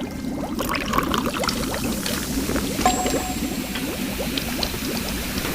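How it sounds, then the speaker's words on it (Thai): Soda poured into a drink alongside cola and mochi snacks, a steady close fizzing pour with a faint bubbling hiss running throughout, no voices. "ทุกคนมาดูใกล้ๆครับใส่โซดาลงไป"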